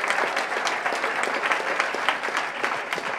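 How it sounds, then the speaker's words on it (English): A crowd at the CodePath Summer 2015 Demo Day applauds the winner with steady, dense clapping that fills the whole stretch, with no talking over it. "final round of applause for our summer 2015 CodePath Dumb Day winner"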